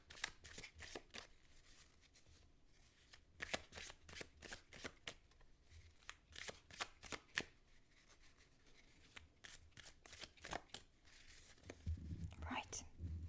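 Overhand shuffling of a Seed & Sickle oracle deck: close, crisp bursts of card flutter repeat in quick runs, with brief pauses between handfuls and a low rustle near the end.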